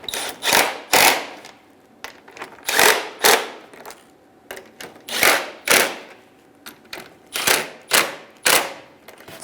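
A ratchet wrench snugs down radiator bolts on a 2010-2014 Subaru Outback, heard as repeated close bursts of rapid clicking, roughly a dozen short runs with brief pauses between them.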